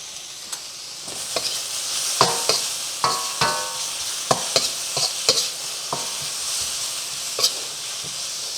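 Egg noodles are stirred in a pot with a utensil, giving scattered scrapes and light knocks every second or so over a steady bubbling hiss from the cooking water.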